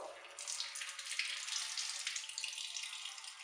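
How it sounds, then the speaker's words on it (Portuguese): Tap water runs steadily for rinsing 35mm black-and-white film before developing, a continuous bright hiss and splash with no voices. "Eu vou me utilizar só de água da torneira e vou fazer três banhos, três lavagens."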